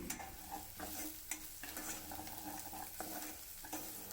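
Spices such as cumin powder and garam masala stirred into a frying mixture in a pan for Mumbai street-style samosa chaat, with a spoon scraping rhythmically over a steady close sizzle.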